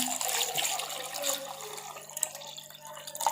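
Water from a cup is poured into a mixer jar while making an immunity drink, giving a steady close splashing and trickling that runs for a few seconds with no talking.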